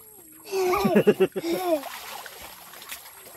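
Water splashes as someone bathes in a mountain stream near Bantayan, Oras, Eastern Samar, with voices talking over a burst of splashing that fades into a softer, steady wash of flowing water.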